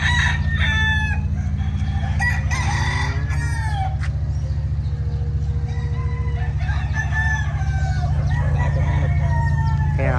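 Many roosters at a gamefowl farm crow and cluck over a steady low engine-like hum, overlapping calls near and far for the whole stretch.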